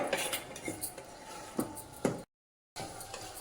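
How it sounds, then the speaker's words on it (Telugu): Fenugreek dumpling curry made with gram flour, stirred in a metal pot: a ladle scrapes and knocks against the sides in quick uneven strokes, close and fairly soft, broken by a brief silent gap. "ఉండలు కర్రీకి పట్టేంత వరకు మనం మంచిగా కలుపుకోవాలి."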